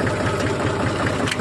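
A tractor engine idles close by with a steady, rapid chugging rumble that stays even and loud through the short stretch.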